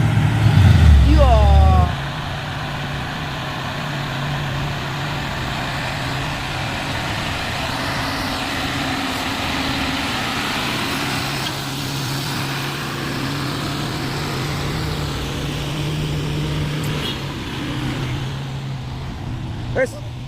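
A Mitsubishi Fuso truck climbing a hill at night, its engine droning steadily under load after a brief louder burst at the start, with voices talking over it.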